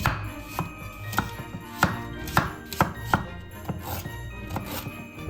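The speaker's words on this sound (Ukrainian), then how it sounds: "та нарізаємо апельсин. Так само нарізаємо яблуко." A knife slices through orange and apple on a cutting board for mulled wine, giving a close, steady series of about ten firm chopping thuds with no talk.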